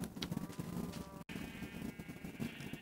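Sheep bleating in the video game Minecraft, a few short game bleats standing out over a steady busy background, fairly close and moderate in level, with no one speaking.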